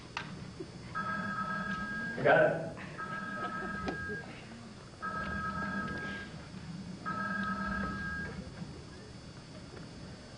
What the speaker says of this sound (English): Let me give him a call on the bat phone again.